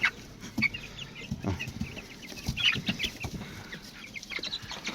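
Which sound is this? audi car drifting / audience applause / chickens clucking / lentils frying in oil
chickens clucking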